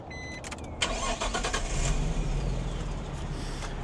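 A 1996 Nissan Skyline GTS25T with stock exhaust cranks briefly and starts, then settles into a quiet, steady idle close by.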